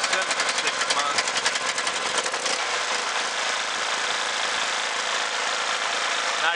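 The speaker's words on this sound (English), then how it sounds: "So I got the generator running." A generator engine runs steadily after a new carburetor fit, a close, loud mechanical clatter with a fast, even pulse that smooths into a constant roar.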